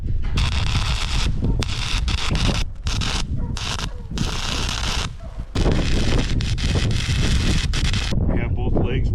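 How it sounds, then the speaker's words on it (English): Strong wind gusting outdoors on rough ground during a scrap-metal welding build, a steady loud roar of buffeting against the microphone that surges and drops briefly, with a person speaking over it. "The wind's starting to pick up out here."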